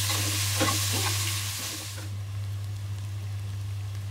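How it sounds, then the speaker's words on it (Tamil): Onions sauté in a pan for egg biryani with a bright, crackling sizzle and a few stirring scrapes, loud at first and then dying down to a faint hiss about halfway through, under a low steady hum. "வெங்காயம் நல்லா வதங்கிருச்சு."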